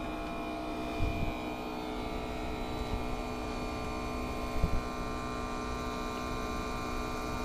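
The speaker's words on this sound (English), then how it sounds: "I heard the air handler starting to ramp up" An indoor mini-split air handler gives off a steady, even hum with a faint tonal whine and no clear rise. A couple of small knocks sound near the start and middle.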